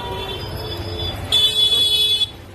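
A car horn blares for about a second amid rumbling traffic noise, loud and close.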